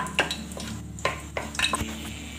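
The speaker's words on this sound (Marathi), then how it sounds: "घी बघा चांगलं गरम झालंय. त्यात टाकते ते वेलची आणि लवंग. जरा परतून घ्यायचं चांगलं." Cardamom and cloves sautéed in hot ghee, stirred in a pan with repeated scraping clinks of a spoon against metal over a soft sizzle, close up with no talking.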